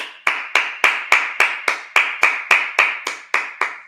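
A congregation at a Sabbath service claps in unison, about thirteen sharp, evenly spaced claps at a steady moderate tempo, loud and close, with no talk.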